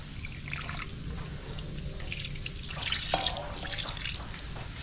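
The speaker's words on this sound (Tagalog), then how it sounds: "So dadagdagan natin ng konting tubig." A little water poured into a pot of baby back ribs, a steady close splashing trickle of running water that continues throughout with no voices.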